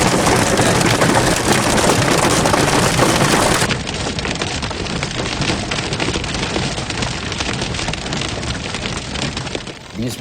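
Massive hailstones batter a vehicle during a violent Alberta hailstorm in strong wind, a loud, dense, continuous rattle of impacts that eases slightly after about four seconds but keeps pounding throughout.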